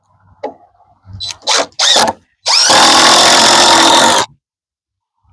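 A power drill drives screws into a window header on a small house build: a few short, sharp bursts of whirring followed by one longer, loud, close run, then silence.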